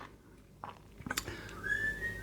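Someone whistles loudly beyond a shut door, the sound coming through muffled with a few short notes, then a rising, sustained whistled tone.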